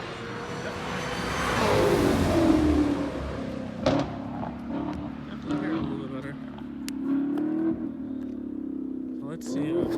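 A 2018 Chevrolet Camaro ZL1's supercharged engine with an aftermarket intake, heard from inside the car as a sustained drone that rises and falls with throttle, with occasional sharp pops and a voice speaking over it.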